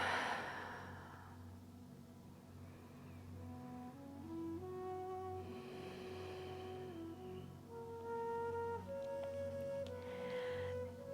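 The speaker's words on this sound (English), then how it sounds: "Take a few deep breaths here in this low lunge." Slow, deep breaths drawn and released during a yoga low lunge, soft and close, with a long sighing exhale at the start and a calm instrumental tone sustained underneath.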